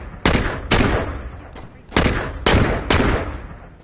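Loud, booming shotgun blasts in the Saints Row 2 video game, five heavy shots with long decaying tails, spaced unevenly about half a second to a second apart.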